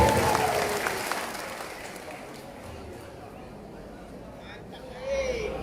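A large audience at a public gathering applauds the President: a steady, broad wash of clapping, loudest at the start, easing slightly, then swelling again briefly near the end.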